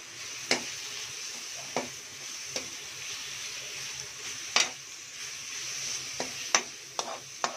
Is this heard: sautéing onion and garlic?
yes